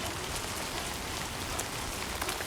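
Steady rainfall in the video game Death Stranding 2, a continuous soft hiss of drops spread evenly and fairly quiet, with no voices.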